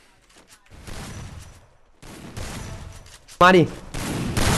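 Gunfire in the battle-royale shooter Free Fire, loud bursts of shots under excited commentary, with a sharp louder burst near the end.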